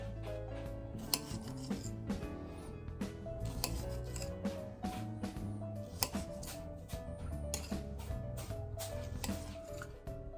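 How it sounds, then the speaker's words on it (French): Quick repeated knife cuts through cherry tomatoes being halved, with light taps of the blade on a board and faint clinks of kitchenware, close and steady without talk, under a background of soft music. "On coupe les tomates cerises en 2."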